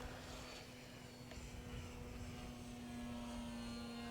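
A KI-44 radio-controlled model airplane with an electric motor flies overhead on a windy day, giving a faint, steady droning buzz that holds one pitch throughout.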